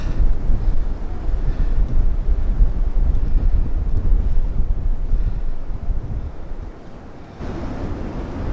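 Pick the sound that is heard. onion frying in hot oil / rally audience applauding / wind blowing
wind blowing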